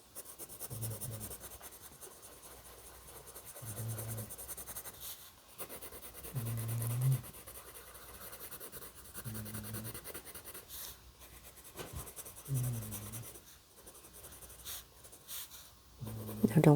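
Colored pencil scratching across paper in short strokes, faint and close, in repeated bursts separated by brief pauses, with some low background noise between them.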